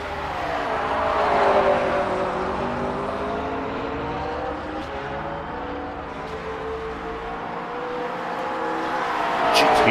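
An LMGT3 AM class race car in a sim-racing game at Road America, its engine holding a steady, close droning note with shifting harmonics that swell slightly at the start and end, with no talking over it.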